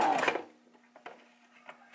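A sewing machine back stitches across an elastic band: a short burst of whirring stitching at the start, then faint scattered clicks and taps, close by and fairly quiet.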